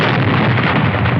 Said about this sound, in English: one single cable to play sounds like this, like my explosion sound